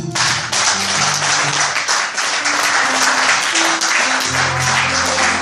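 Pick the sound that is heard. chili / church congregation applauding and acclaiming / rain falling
church congregation applauding and acclaiming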